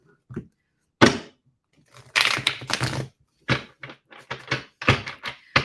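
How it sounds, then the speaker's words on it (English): Tarot cards shuffled by hand, a series of crisp riffling and tapping bursts separated by short silences, close and dry. "I'm just going to give a nice, good, clear shuffle."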